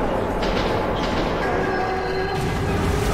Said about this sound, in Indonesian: Oke, ada kereta. Tapi bayangannya doang.